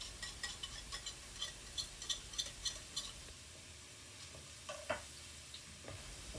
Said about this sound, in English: Mix it all up until it's nice and even